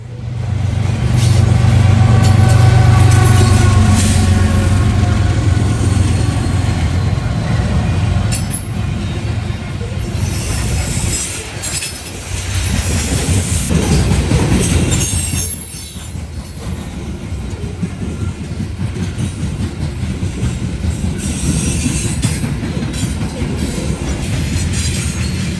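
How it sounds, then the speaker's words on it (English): A freight train hauled by ES44AC and AC44C6M locomotives, with an SD70ACE at the rear, rumbles loudly past close by. Heavy low roar, wheel squeal and rail clatter continue steadily throughout. "Bringing up the rear of 778 was an AC44C6M and an SD70 ACE."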